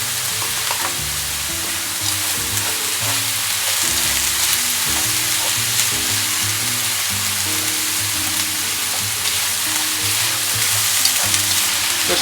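Garlic flakes fry in a pan during pumpkin soup preparation, giving a loud, steady sizzle with frequent stirring clatter throughout and no talking.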